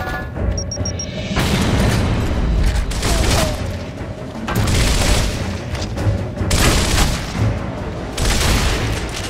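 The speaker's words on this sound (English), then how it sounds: "Incoming frag!" A frag grenade explosion from the game Gears of War, heard amid heavy combat: loud booming blasts and rolling gunfire fill the whole stretch, with repeated bursts surging and fading under a dense battle din.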